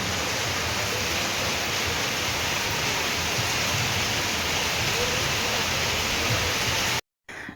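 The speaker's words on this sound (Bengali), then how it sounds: "আর এদিকে ঝমঝম করে বৃষ্টি পড়ছে, ভালোই বৃষ্টি পড়ছে।" Heavy rain pours and drums steadily on leaves and surfaces, a dense, loud, unbroken hiss that cuts off abruptly near the end.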